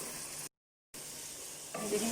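Masala fries in ghee in a pan with a soft, steady sizzle, broken by a brief dead gap, then a slightly louder stir near the end.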